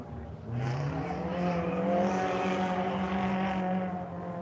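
A drift car on a race track during a drifting event, its engine note rising and holding as it runs a long loop, loud and steady with harmonic revving over a continuous roar for several seconds.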